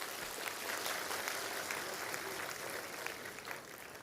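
An audience at the North Indian Mahasammelan in East Ahmedabad claps together in steady, dense applause, a continuous wash of hands that fades slightly toward the end.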